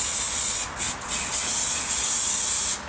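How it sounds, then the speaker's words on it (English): Aerosol spray applied over model train layout ground cover, a steady close hiss broken by two brief stops, loud and continuous to the end. "The last spray"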